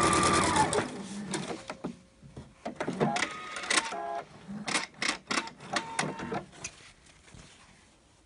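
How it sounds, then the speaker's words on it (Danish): A domestic sewing machine runs in short bursts of fast, even stitching, with pauses between runs while fine straight stitches are sewn on a shirt with collar and stand, using tear-away stabilizer. "Så er der noget hen ved transportøren, som gør, at din symaskine kan få bedre fat."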